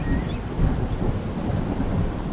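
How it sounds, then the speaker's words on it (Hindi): Heavy rain pours down steadily with a deep, rolling rumble of thunder underneath, a dense continuous wash of storm noise with no voices. "तभी तेज बारिश शुरू हो गई।"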